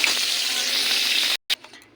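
Stuffed bitter gourd lightly frying in hot oil, with a dense steady sizzle that cuts off abruptly near the end before a brief final burst.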